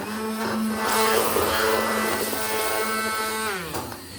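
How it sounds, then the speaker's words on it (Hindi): Hand blender whirring through masala in a pot on the stove, a steady close motor drone with a shifting pitch that drops near the end. "हैंड ब्लेंडर का ये भी बहुत फ़ायदा है कि हमें ना तो चूल्हा बंद करना पड़ता है"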